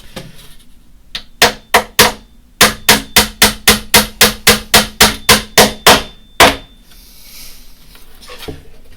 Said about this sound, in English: I'm going to try to hammer on my lap since you can see me